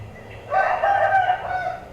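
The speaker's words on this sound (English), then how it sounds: "the rooster" A rooster crows once at moderate distance, a rising then held cock-a-doodle-doo over faint low background hum.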